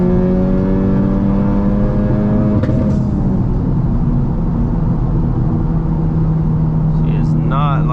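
A 2020 Honda Civic Type R engine pulls hard and rises in pitch before cutting abruptly, then settles into a steady drone, loud and close from inside the car, with faint talk near the end.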